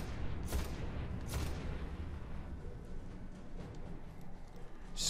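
Gunfire in the Destiny beta on PS3, a continuous rumbling barrage of booming shots with a few sharper cracks standing out, dense and loud throughout with no talking.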